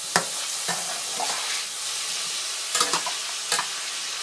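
Mince and sausages fry in a pan for a homemade curry, a continuous close sizzle broken by a few sharp scraping clicks as they are stirred together, with no voices.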